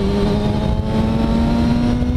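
A Kawasaki 636 motorcycle accelerates hard, its engine note rising steadily as a loud, close, continuous whine with no gear change.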